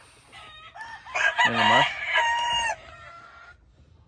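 A young Yellow Le Hatch rooster crows once, loud and close, a strained rising call that breaks off, with a brief spoken phrase over farm background.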